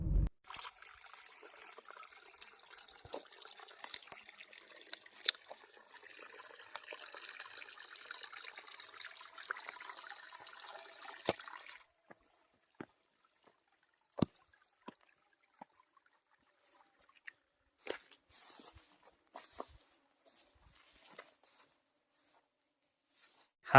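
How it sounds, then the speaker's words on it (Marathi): Water trickling at the source of the Nira river, a steady, soft flowing murmur for about half the time, then quieter scattered drips and splashes. "आपण आज या नीरा नदीच्या उगमस्थानाचं आपणा सर्वांना दर्शन देत आहोत."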